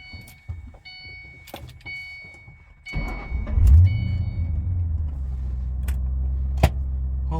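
A 2009 Ford Mustang GT sits quiet at first, with a few clicks and a whirring motor nearby. Then the engine fires with a sudden loud burst and settles into a steady, deep, close rumble.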